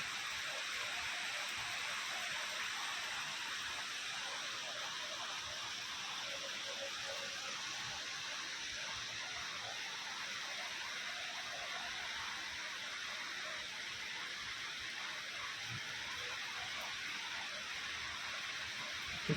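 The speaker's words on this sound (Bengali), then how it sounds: "আর দেখাই বৃষ্টি, দেখ সুন্দর হচ্ছে।" Rain falls steadily outside a flat, making an even, continuous hiss that holds at the same level throughout with no voices.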